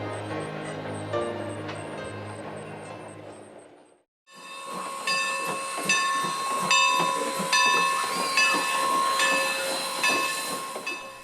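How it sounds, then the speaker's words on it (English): A Strasburg Railroad steam train: a deep low rumble first, then after a short break a loud hiss of steam under bright sustained whistle-like tones with rhythmic chuffing pulses, close and continuous. "a steam railroad that fits perfectly in this setting,"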